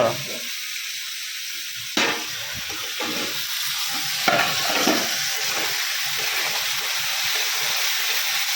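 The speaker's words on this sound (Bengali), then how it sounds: "মটরশুঁটি ভাজা চলছে" Green peas being fried and stirred by a vendor on a train, a steady broadband sizzle with scraping stir strokes and occasional sharp clanks, fairly close, with faint voices in the background.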